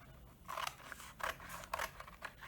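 Scissors snip through a paper trouser pattern in three or four short crisp cuts, each a quick bright rasp spaced about half a second apart, close and fairly quiet with no talk.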